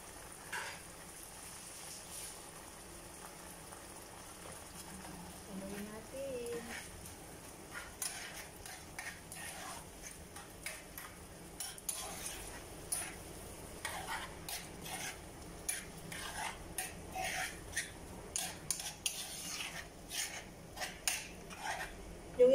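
Egg being stirred into sizzling sisig in a pan, with repeated scraping and clinking of a utensil against the metal in an irregular rhythm over a low steady sizzle, close by, no voices.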